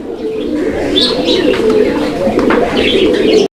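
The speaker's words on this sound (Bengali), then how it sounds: "ইতিমধ্যে নটটা ডাকতেছে আপনারা দেখতে পাচ্ছেন অনেক সুন্দর ডাকের কবুতর" A male fancy pigeon coos loud and close, a continuous rolling, throaty call sustained for over three seconds with faint chirps around it.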